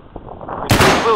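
A single sharp M14 rifle gunshot cracks loudly, with faint shuffling and murmuring before it and a trailing rumble after.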